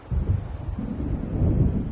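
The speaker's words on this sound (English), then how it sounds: "It seems there's a storm coming." Low, rolling thunder from an approaching storm in Alan Wake Remastered: a deep rumble that starts suddenly and keeps swelling over two seconds, with nothing else heard.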